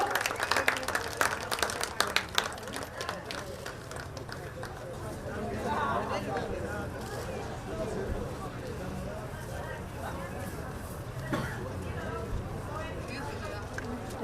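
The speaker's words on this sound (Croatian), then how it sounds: "Molim vas jedan aplauz za Bokačo Boya, on je danas lijepo trčao." A crowd applauds at a horse race prize ceremony at the Zagreb hippodrome, with scattered clapping that is strongest at first and then fades. A voice talks over the applause on a public address system.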